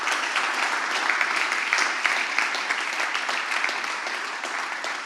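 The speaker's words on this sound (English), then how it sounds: "I would like to ask a very big round of applause for the startups that have participated in the Energy Starter" An audience at an Energy Starter 2023 startup open day applauds the participating startups, a continuous, even wash of many hands clapping at moderate distance that holds steady throughout.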